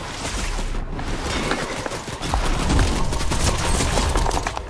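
Dense, rapid gunfire in Fortnite, a loud continuous barrage of crackling shots that swells louder midway and keeps going with little pause.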